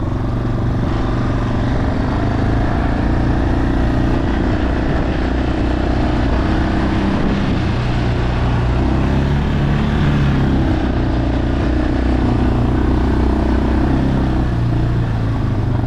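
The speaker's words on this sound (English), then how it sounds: "jumped on our four-wheeler" Four-wheeler ATV engine running steadily at close range, a continuous low rumbling drone that holds at a constant loud level throughout, with no voices.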